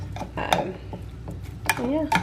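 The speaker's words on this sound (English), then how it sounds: "I'm just going to keep stirring it so that all these big lumps sort of start to melt" A utensil scrapes and taps against a pan while lumpy candle wax is stirred as it melts, with a few clinks and soft scraping strokes at close range.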